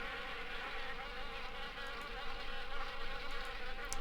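Wasps from nests in an old car and attic window buzz continuously in the video game Harvester, a faint, steady insect drone with no talk.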